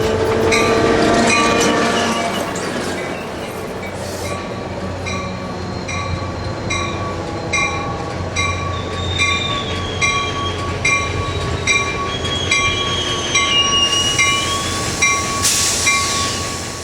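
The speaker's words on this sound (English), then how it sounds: "we see Train 3 approaching the platform after coming down from Altamont Pass" An ACE commuter train pulls into Vasco Station in Livermore after descending from Altamont Pass, its horn sounding in repeated blasts while the wheels clatter rhythmically on the rails and squeal faintly as it approaches, loud and close with no talk.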